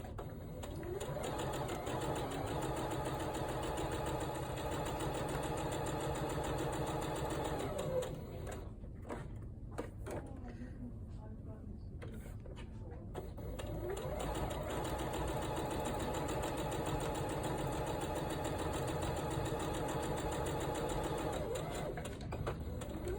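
A sewing machine chain-pieces fabric bunting, its steady mechanical whir running in two long stretches with a brief pause between them, close and even.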